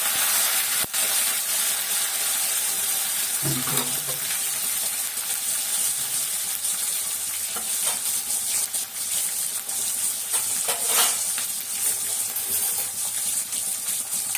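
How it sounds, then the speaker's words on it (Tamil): Onions sauté in a pan, producing a steady, bright hiss of frying that runs throughout, with a few faint knocks and scrapes under it and no talk. "கொஞ்சம் வெங்காயம் வந்து கொஞ்சம் நல்லா பொன்னிறமாக வதங்கணும்"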